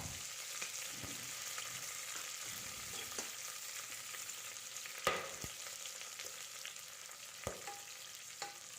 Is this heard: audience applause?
no